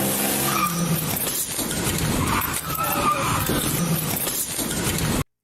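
A stolen car speeds away from police, its tires squealing and skidding over a loud revving engine for about five seconds before cutting off abruptly.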